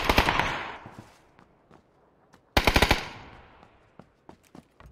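Two sharp bursts of rapid video-game gunfire ring out, each a quick string of loud cracks that decays into echo, followed by scattered single shots and faint clicks in between.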